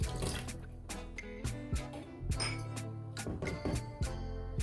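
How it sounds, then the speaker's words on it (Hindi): Water poured into a pan of spice masala with red chili, turmeric and coriander for rajma, heard as close splashing and trickling with metallic clinks and knocks in an uneven rhythm, no voices. "थोड़ा सा पानी ऐड करेंगे"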